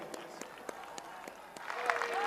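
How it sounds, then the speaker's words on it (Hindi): Audience applause welcoming Prime Minister Narendra Modi at Parakram Divas celebrations in Kolkata, scattered claps at first building into fuller clapping, with an announcer's voice speaking over it. "तालियों से स्वागत कीजिए।"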